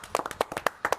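Clapping in a radio studio: a handful of sharp, irregular hand claps from a few people, close and distinct, in a brief burst.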